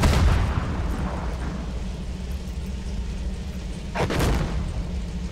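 Siege tank cannon shells strike enemy infantry at night in a video game. A booming impact opens, a rumbling roar follows, then a second sharp blast comes near the end.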